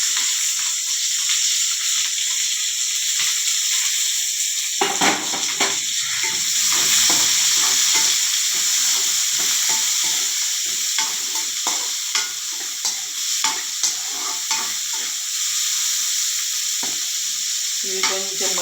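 Green chillies and ivy gourd fry in a pan, a loud continuous oily sizzle with frequent scraping and stirring noises close by.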